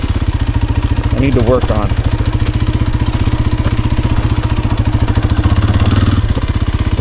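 A Kawasaki KLX230R dirt bike engine idles close by with a steady, throbbing low chug and faint mechanical clatter, while a rider talks over it throughout.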